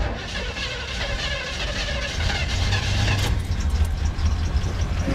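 A 1974 Chevrolet El Camino V8 that sat for years cranks and catches, the rough low engine rumble swelling louder partway through and running unevenly, close by with no talking.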